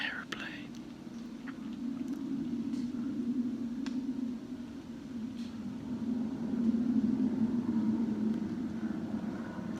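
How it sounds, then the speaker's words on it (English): A faint aeroplane drones steadily overhead in the distance, a low continuous hum that swells slightly toward the end amid quiet outdoor ambience. "Another aeroplane."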